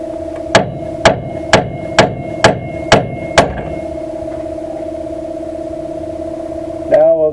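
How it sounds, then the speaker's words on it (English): Seven sharp metallic hammer strikes at an even pace on the upper ball joint of a 2008 Chevrolet Silverado, ringing over a steady hum, followed by a brief scrape near the end. "with a little strike of the hammer we should be able to separate this upper ball joint"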